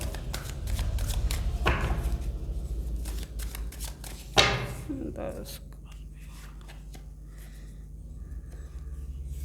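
Tarot cards are shuffled and drawn by hand, giving soft riffling flicks and a louder slap near the middle, while someone talks over it steadily.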